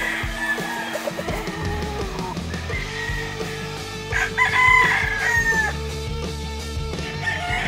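Young roosters (stags) crow repeatedly on a farm in hot weather, several overlapping cock-a-doodle-doo calls rising loud and close, with clucking and other fowl noise throughout.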